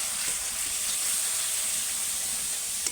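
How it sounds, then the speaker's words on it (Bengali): Spice masala with cumin and coriander powder fries in a pan as a faint, even hiss. It stays soft and continuous, with no talk. "দেবো একটু জিরে গুঁড়ো ধনে গুঁড়ো দিয়ে দেবো লাল লঙ্কার মধ্যে দিয়ে মশলাটা কষে নেবো"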